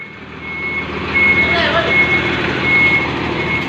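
A truck backs up while its reversing alarm sounds in short, evenly spaced beeps over the loud, steady drone of the engine nearby.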